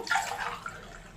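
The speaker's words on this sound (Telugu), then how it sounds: "వాటర్ వేస్తున్నాను." Water poured onto rice in a pot for prawn biryani, a steady splashing gush lasting about a second, close and moderately loud with no voices.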